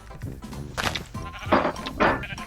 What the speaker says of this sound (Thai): แกะผสมพันธุ์ได้ยังแล้วแกะหายไปไหนตัวหนึ่งวะ